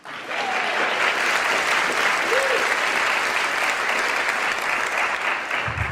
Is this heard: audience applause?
yes